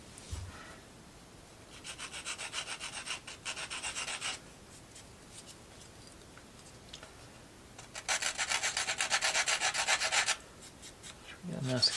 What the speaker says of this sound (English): I was talking about how I didn't sand this or anything. I forgot to do that right quick.